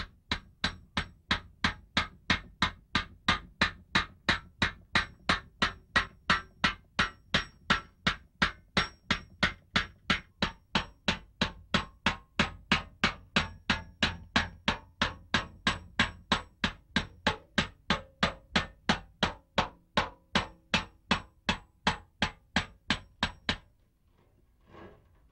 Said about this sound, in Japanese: 鈍く光る銀の延べ板が金槌に叩かれ、土目が刻み込まれていきます